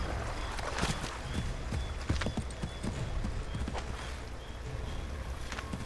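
Horse hooves clip-clop steadily while riding in Assassin's Creed 3, the rhythmic steps sitting under a continuous bed of outdoor ambience and water-like noise.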